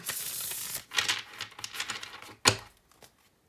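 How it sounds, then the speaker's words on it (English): Kawaii Tarot cards being bridge shuffled, giving quick papery riffling bursts with soft gaps between them and one sharp snap near the end, close and moderately loud. "I'm going to be bridge shuffling it"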